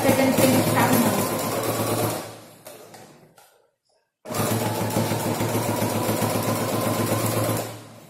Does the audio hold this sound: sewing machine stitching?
yes